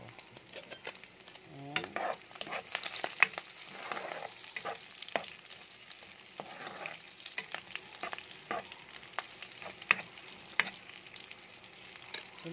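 Garlic and onion sauté in a pan for ginisang sitaw, with a soft steady sizzle, scattered stirring scrapes and utensil taps, and a brief spoken word over it.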